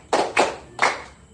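Three sharp hand claps in a classroom practice activity, two quick ones then a third after a short pause, close and fairly loud with no talk over them.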